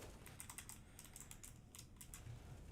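Quiet clicking keystrokes from a Gamma K61 computer keyboard patter in irregular bursts, close to the microphone and with no voice in between.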